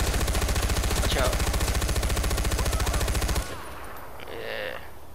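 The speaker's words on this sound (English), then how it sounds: "What are you shooting at?" Rapid automatic gunfire in the video game Far Cry 4 rattles in a steady, fast burst for about three seconds, loud and close, then cuts off to quieter game ambience.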